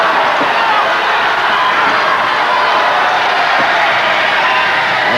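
A large wrestling arena crowd roars and cheers loudly and continuously, a dense wall of voices with occasional thuds beneath it.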